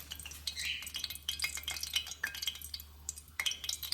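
Plantain fritters frying in oil, a quiet, close crackle with scattered sharp pops and light spoon clinks over a low hum.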